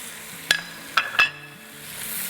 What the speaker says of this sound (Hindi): तो बस वेजिटेबल्स को हम सॉटे करेंगे अराउंड 2 मिनट के आसपास